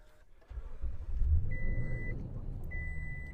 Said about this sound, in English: Now let's hop inside the 2021 Toyota Tundra, start it up